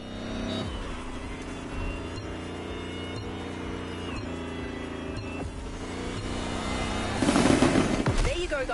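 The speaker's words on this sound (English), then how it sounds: "The Lamborghini Terzo Millennio like you've never seen it before." A Lamborghini Terzo Millennio in The Crew Motorfest runs at a steady drone for several seconds under background music, then surges louder near the finish with a brief burst of engine and impact noise.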